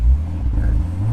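A Ford Bronco Raptor engine revving up toward 3,000 RPM, a loud close low rumble that rises and holds briefly.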